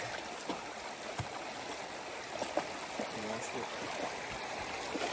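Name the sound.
river stream flowing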